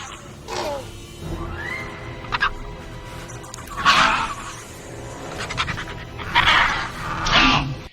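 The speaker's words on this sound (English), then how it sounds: "those sequences at the end with the raptors, like after they give them the eggs and they're just like barking at each other" Velociraptors from Jurassic Park III bark and squawk back and forth in several sharp, raspy bursts, with panting breaths and short gaps between the calls.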